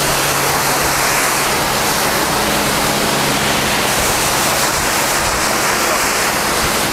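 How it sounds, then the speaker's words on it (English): A power washer sprays car wash product across a car, producing a continuous, loud hiss of pressurized water with a steady rushing texture and a faint low hum underneath. "We're going to use the power washer to spread the product around the car."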